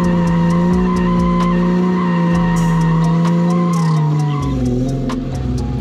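A car spinning a drifting donut gives a sustained, loud tire skid with a wavering squeal over the revving engine, continuing for several seconds close by.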